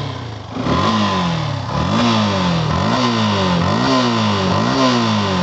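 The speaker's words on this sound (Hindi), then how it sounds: "अब मैं आपको इस बाइक को स्टार्ट करके दिखाता हूँ कि इसके इंजन का साउंड कैसा है" A Yamaha FZS V 2.0 motorcycle engine with 43,000 km runs loud and close, its pitch climbing in a steady series of repeated revs, each rising and then dropping back.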